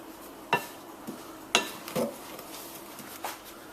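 Powdered sugar and a pinch of cream of tartar being mixed in a bowl: a few sparse scraping taps and clinks of a utensil against the bowl, quiet and spaced apart, with a soft steady background.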